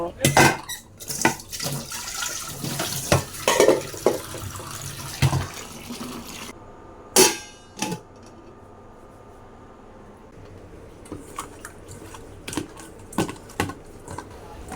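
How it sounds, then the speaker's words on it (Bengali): Fish being rinsed under a running kitchen tap, with water splashing and clattering dishes and utensils in bursts at a sink, close and moderately loud, trailing off into quieter intermittent clinks. "মাছগুলো এখন আমি ধুয়ে নেব"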